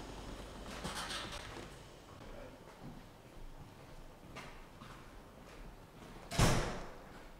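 A heavy door at a distillery lab is pulled open with a sharp, loud clack near the end, after soft faint rattles and shuffling.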